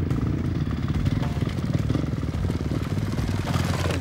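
Dirt motorcycles weave through desert rocks and sand washes on a ride to Cabo, their engines a steady, loud, rough chugging drone with faint rattle throughout.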